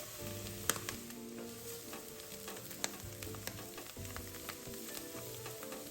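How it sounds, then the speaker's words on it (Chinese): Minced garlic and diced shiitake mushrooms stir-fry in oil over medium heat, giving a quiet, continuous sizzle. Occasional light taps and scrapes from the spatula sound throughout, with no voices. "接着将蒜末也加进来爆香。"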